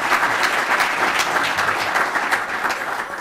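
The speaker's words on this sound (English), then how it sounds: "Round of applause would be appropriate." Audience applause for the introduction of a business school dean at Ohio State's Fisher College of Business, a steady dense clapping from a large crowd that holds at an even level throughout, with no talk over it.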